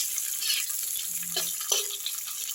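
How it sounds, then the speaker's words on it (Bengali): Chopped onion frying in oil, a soft, low sizzle running throughout with a couple of brief clinks or scrapes partway through. "পেঁয়াজটা আমি লাল করে ভেজে নিচ্ছি।"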